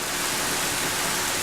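Steady rain and storm noise from Zelda: Ocarina of Time forms a dense, even hiss that fills the whole moment without breaks or voices.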